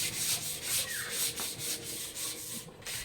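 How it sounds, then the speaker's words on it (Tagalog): Hand sanding of a varnished wooden main door with fine 240-grit sandpaper to smooth out drips and bumps: steady, close back-and-forth rubbing strokes, evenly paced, with no talking. "So lilihain naman natin ngayon. Ginamit natin ay 240."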